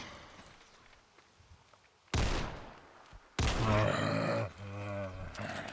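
Two loud, sudden shots ring out from a semi-automatic gun in Fallout 4, a zombie apocalypse modlist, the second followed by a rumbling tail over quieter game ambience.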